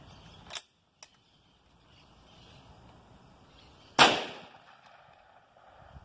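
Two short clicks are followed a few seconds later by one loud 16-gauge shotgun shot fired over a chronograph, with a brief trailing echo, the surroundings otherwise quiet.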